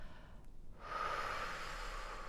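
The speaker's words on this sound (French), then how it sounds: "Je commence par souffler." A long, steady breath blown out hard during a yoga breathing exercise, starting after a quiet moment and held as an even, breathy rush of air to the end.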